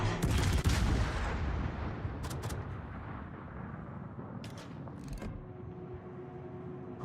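Warship main guns firing in World of Warships, a heavy booming salvo that opens loud and rolls into a long fading rumble, followed by a couple of fainter distant thuds.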